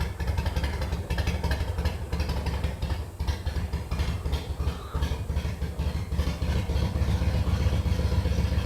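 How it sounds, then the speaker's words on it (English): 2006 Harley-Davidson Sportster engine idling up close, a loud, lumpy low-pitched rumble with an uneven, loping beat and some mechanical clatter, running steadily without any talk. "I've always liked the sound of this engine. You definitely know you're on a Harley."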